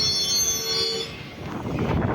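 Vanchinad Express passenger train running near Chirayinkeezhu railway station in Kerala, a close, loud rumble of carriages and wheels with high squealing tones that fade partway through as the rolling noise continues.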